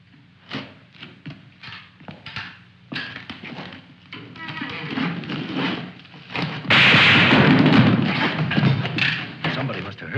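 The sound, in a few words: gunshots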